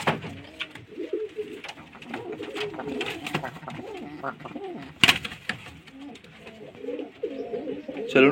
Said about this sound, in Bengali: পায়রা বিউটিগুলো দেখুন।